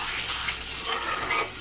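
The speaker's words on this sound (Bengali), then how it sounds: "এবার ঝোল দিয়ে দেব।" Water poured into an egg and potato curry in a pan, a brief steady gushing splash close by, no talking.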